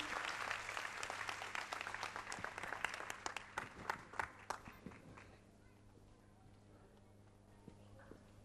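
An audience applauds for a performer named Shraddha at a 13th Foundation Day event, with dense sustained clapping that gradually thins out and fades, leaving only a few scattered claps at the end.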